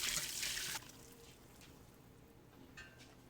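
Pork broth poured through a sieve makes a soft splashing pour for under a second, then fades to a faint trickle and occasional drips in a quiet kitchen.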